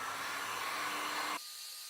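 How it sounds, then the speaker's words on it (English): A heat gun blows hot air across a leather heel counter to soften it, giving a steady loud whooshing hiss that cuts off abruptly to a quieter hum. "we're going to grab our heat gun."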